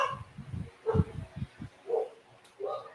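Dogs outside bark in short muffled bursts, several quick woofs followed by a couple of whiny yips, faint and somewhat distant, with a voice talking at times.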